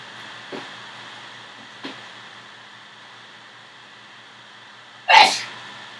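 A single sharp sneeze bursts out near the end, following a quieter stretch with two faint soft clicks over a steady low hum.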